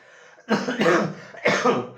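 A person coughs twice in quick succession, close and fairly loud, with a short pause between the harsh bursts.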